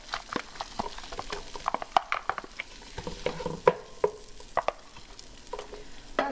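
Onions fry and get stirred in melted butter and bacon fat for clam chowder, soft sizzling under repeated scraping and clattering utensil strokes, close and fairly quiet.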